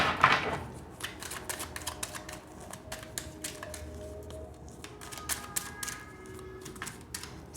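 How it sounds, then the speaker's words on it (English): Tarot-style cards are pulled from a deck, making quiet, irregular papery taps and flicks that go on steadily throughout without any speech. "I'm just start pulling some cards."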